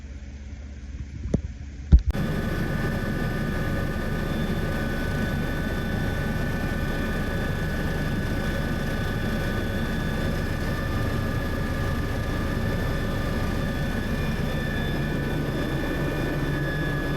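A helicopter flying over Prince William Sound, Alaska: after a couple of faint knocks, a loud, steady engine and rotor drone sets in and holds unbroken to the end.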